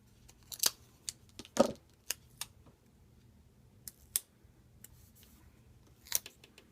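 Scissors snip paper around a glitter header in a planner, a series of short, crisp cuts spaced irregularly with a few louder snips, close and quiet with no voices.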